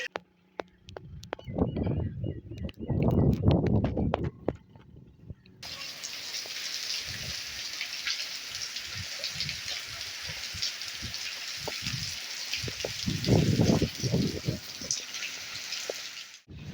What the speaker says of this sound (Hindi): दोस्तों हिन वक़्तु बरसाति सां गॾु जेकी तूफ़ानी हवा आहे उहा तमामु घणी तेज़ आहे।